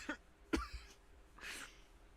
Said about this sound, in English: I'm not faking the coughs.